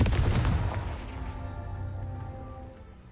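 A Confringo fire spell in a Harry Potter-style video game bursts with a loud booming blast, then a rumbling decay with ringing tones that fades over a few seconds.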